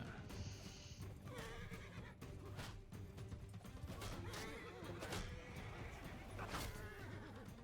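Horses neigh and hooves clip-clop through a battle in the video game Mount & Blade II: Bannerlord, with whinnies rising over the constant gallop, crashes of impact and a voice talking underneath.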